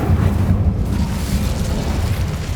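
A fire spell cast in Hogwarts Legacy roars as a steady, loud, rumbling whoosh of flame and blast that holds for the whole moment without letting up.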